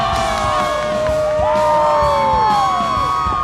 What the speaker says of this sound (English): Tremendous crowd here in Blacksburg, as is always the case.